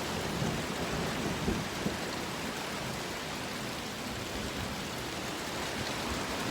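Heavy rain pours outdoors during a lightning storm, a dense even hiss of rainfall with low thunder rumbling underneath, continuous and fairly loud with no voices.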